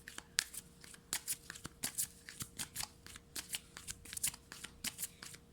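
Tarot cards shuffled by hand during a card reading, a quick run of crisp riffling bursts and soft slaps, close and fairly quiet, with no talking.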